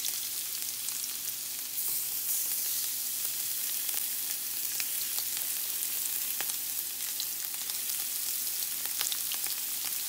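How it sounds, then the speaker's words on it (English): Shrimp frying in a hot pan, a bright, steady sizzle with crackling pops throughout, close and uninterrupted by talk. "Now let's put these shrimp on in there."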